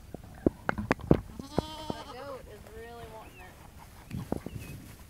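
Goats bleat in wavering cries while eating corn husks, among sharp knocks and clatter, close by, with people speaking at times around them.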